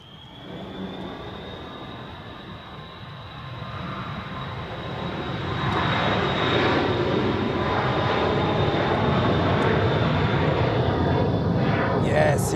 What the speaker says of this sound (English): Cessna Citation to Munich